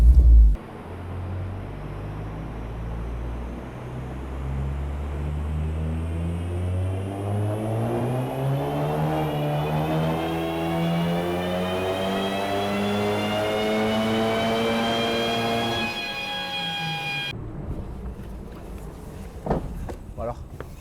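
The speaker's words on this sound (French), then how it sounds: "les pneus slick, donc semi-slick, font un bruit du tonnerre" Stage 3 track-prepared Seat Leon Cupra with 480 hp run on a dyno on semi-slick tyres: engine note climbs steadily in pitch through a long pull, with loud tyre roar, then cuts off abruptly.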